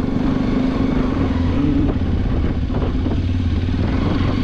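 Hero Xpulse 210cc motorcycle riding along a residential road in Bengaluru, its engine droning steadily with a low rumble and some clatter, close and continuous, with no talking.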